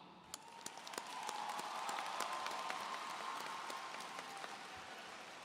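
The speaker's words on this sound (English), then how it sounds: "I would like to take a moment to applaud all of your parents right now." Sustained applause from a crowd at a 2023 high school commencement, many hands clapping together for the graduates' parents, swelling after the first second and holding steady, fairly distant and broad.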